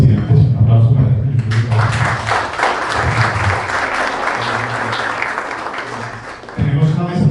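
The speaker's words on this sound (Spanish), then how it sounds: "Un aplauso para él." Audience applause at a business forum on AI, steady clapping filling the room for several seconds, with a voice speaking briefly before it starts and again as it fades.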